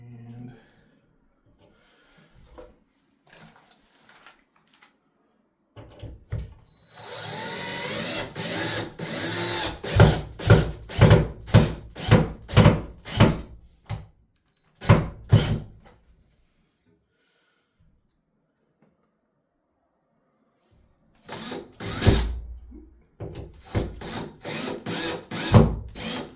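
Power drill driving screws into drywall during a wall patch repair, with several separate bursts of whirring, each ending in rapid pulsing as the screw seats, and quiet pauses between them.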